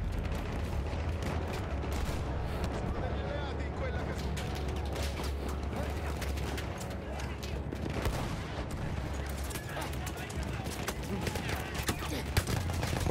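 Rapid, dense gunfire from a powerful weapon in Battlefield 1, with a near continuous crackle of shots over a low rumble of battle, with talk over it.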